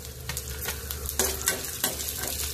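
Garlic cloves frying in oil for a horsegram chutney, a close, busy sizzle with repeated crackling bursts and stirring scrapes over a low hum, no talking.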